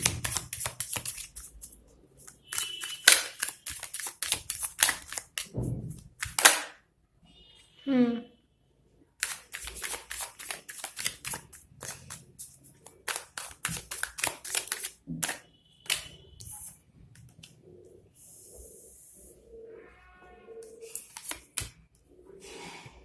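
Tarot cards are shuffled and drawn up close, producing bursts of rapid crisp riffling and snapping, separated by short pauses and softer sliding rubs.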